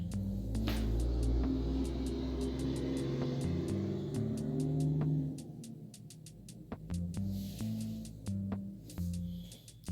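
Cars and a truck passing outside, a heavy rumbling pass that fades halfway, followed by quieter traffic hum with repeated sharp clicks.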